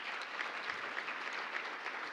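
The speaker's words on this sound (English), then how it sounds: "Let's clap." Steady applause from an audience at the MISMO Fall Summit 2026 industry conference, a dense even patter of many hands clapping together for about two seconds at moderate level, with no voices over it.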